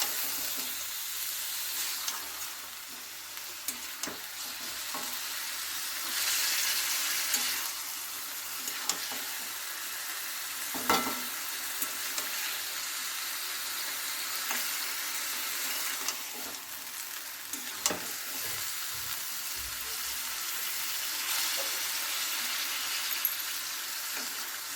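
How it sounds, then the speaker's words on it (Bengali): Chicken seasoned with salt fries in oil, a steady close sizzle running throughout, broken by frequent scrapes and knocks as the pieces are stirred in the pan, with no voices. "তেলেতে আমি নেড়ে চেড়ে কীরকম হালকা ভাজা ভাজা করে নিয়েছি"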